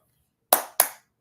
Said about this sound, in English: Let's get the motherfucking clapping